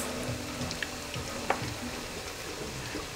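Persian meat patties (kotlet) fry in oil over high heat, giving a soft, steady sizzle with small pops and crackles scattered throughout.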